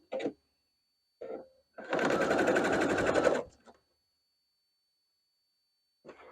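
A sewing machine stitching quilt blocks: a couple of short stitching bursts, then a steady run of about a second and a half, and a brief final start after a pause.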